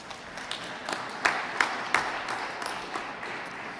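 Scattered, uneven hand claps and a few sharp snaps ring out from a conference audience, sparse and moderately close rather than a full ovation.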